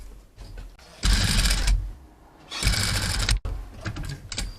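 A sewing machine stitches binding along the shoulder edge of a mesh tank top in two loud, rapid bursts of stitching separated by quieter handling sounds and a sharp click.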